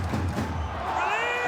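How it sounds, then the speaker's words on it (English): Crowd noise at a rugby league stadium during a Wests Tigers versus Sharks match, a broad distant roar of cheering fans, fairly faint and sustained over the brief moment. "listen to the crowd"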